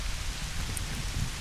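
Icy snow pellets, not quite hail, patter steadily outdoors in the cold, a dense, even hiss of tiny impacts with no breaks.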